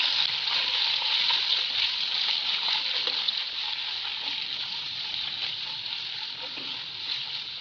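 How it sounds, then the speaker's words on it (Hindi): Boneless chicken fries in a hot pan as part of a restaurant-style chow mein, giving a loud, steady, close sizzle with faint stirring throughout. "अब मैं इसके अंदर ये चिकन ऐड करूँगी बोनलेस इसको मैं दो से तीन मिनट के लिए अच्छी तरह से भून लूँगी"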